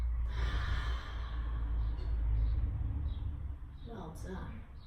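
Slow, deep breaths during a Pilates mat stretch, soft airy inhales and exhales heard up close with a low background hum.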